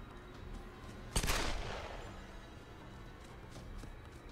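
Gunfire in the Tomb Raider video game: one sharp loud shot cracks out, followed by a decaying rumble and a few faint distant pops.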